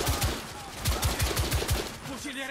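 Rapid bursts of gunfire from the third-person shooter The Order: 1886, several quick volleys of shots in a steady rhythm, loud and close, with game effects layered behind.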